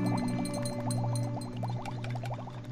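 Food boils in the game Day R Survival, a steady bubbling with rapid repeated pops over a constant humming drone, close and continuous.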